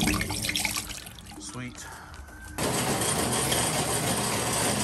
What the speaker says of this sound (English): draining pretty good now